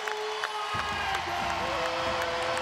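Crowd at a college dual wrestling meet between Oklahoma State and Iowa roars with loud, sustained cheering and applause after a 5-3 bout win, swelling from about the first second onward with a commentator talking over it.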